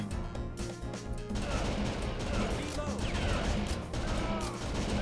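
Rapid bursts of machine gun fire rattle continuously in an arcade light gun game, with crashes and clatter mixed in and a voice talking underneath.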